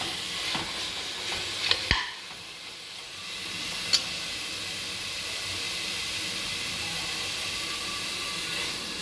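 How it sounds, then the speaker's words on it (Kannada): Biryani masala fries in oil in a pan, a loud steady hissing sizzle with a few brief spoon knocks early on, then continuous bubbling crackle. "ಎಣ್ಣೆಗೆಲ್ಲ ಚೆನ್ನಾಗಿ ಫ್ರೈ ಆಗಬೇಕು."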